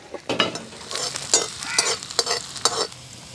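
Onions and curry leaves hit hot oil in a village kitchen, producing loud, close bursts of crackling sizzle that rise and fall in uneven waves over a few seconds, with no talking.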